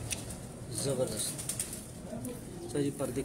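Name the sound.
pigeons cooing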